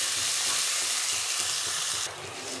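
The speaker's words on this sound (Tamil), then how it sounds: "இது கொஞ்சம் நேரம் நல்லா தக்காளி வதங்கிட்டு" Tomatoes sautéing in a pan for duck curry give off a loud, continuous sizzle and hiss with faint stirring underneath. The sizzle drops slightly near the end, and no one talks.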